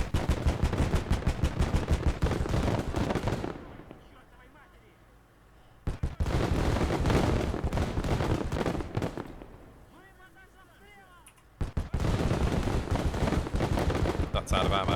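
Rapid gunfire from automatic weapons in the Call To Arms: Gates of Hell game, loud dense bursts separated by two quieter lulls where a voice talks.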